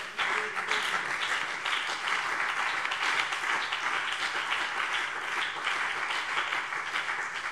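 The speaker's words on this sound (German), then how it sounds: "Applaus." Members of a state parliament in plenary session applaud during a budget debate, a sustained, fairly loud and even roar of clapping from a large chamber.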